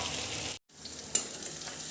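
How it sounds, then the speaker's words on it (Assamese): Onions for chicken biryani fry in hot oil with a dense, close sizzle that drops out briefly and resumes, and a single sharp stir or clink in the middle. "এতিয়া বিৰিয়ানিৰ কাৰণে পিঁয়াজখিনি ফ্ৰাই কৰি লৈছো"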